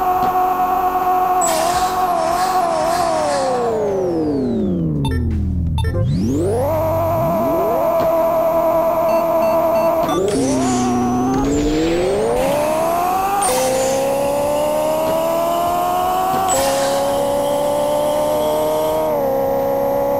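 An upgraded Ferrari accelerates hard toward 210 miles per hour, its loud, close engine rising in pitch through several gear changes, with one deep drop and swell before it climbs and holds at a high, steady whine.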